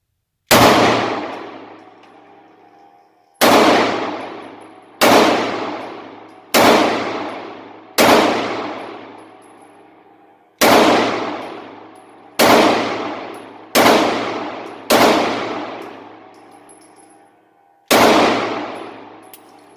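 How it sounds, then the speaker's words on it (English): Gunshots from a firearm loaded with a Pro Mag magazine ring out one at a time, ten in all, at an uneven pace. Each crack is loud and sharp and is followed by a ringing metallic decay, and no one talks between them. "So here we go, the first shots with the Pro Mag."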